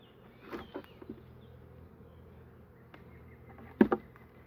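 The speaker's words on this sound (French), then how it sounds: "Parce qu'il y a des abeilles au fond." Bees in a very weak beehive colony buzzing at the bottom of the hive, a low faint hum with a few louder buzzes passing close by, one sharp nearby burst near the end.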